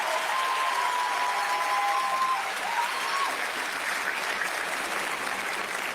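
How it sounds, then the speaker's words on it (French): Warm audience applause for the two creators who named and designed the mascot of the 2026 Youth Olympic Games, dense and steady, with a faint thin tone briefly audible early on. "Merci de les applaudir encore, ces deux talents qui ont trouvé et le nom et créé le visage de cette"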